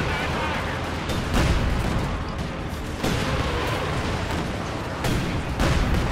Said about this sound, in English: Oh, look at the artillery round it's coming in.